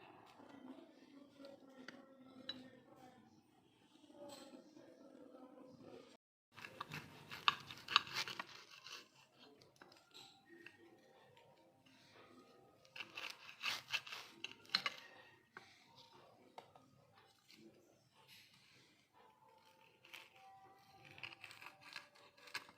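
A knife slices through garlic bread in a home kitchen, giving faint, irregular crunchy cuts and scraping in short bursts, quiet and close, with brief pauses between strokes.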